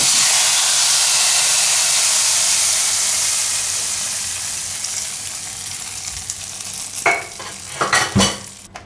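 A hot tempering of chillies, curry leaves and asafoetida sizzles loudly and steadily, then is poured onto dal, ending in a few sharp bursts of hissing spatter and clatter.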